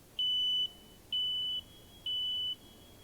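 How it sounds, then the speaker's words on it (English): A home smoke alarm sounds three loud, piercing high beeps during a button test, each about half a second long and evenly spaced, with no one talking. "you can push the button to test the alarm. Cover your ears, it's loud."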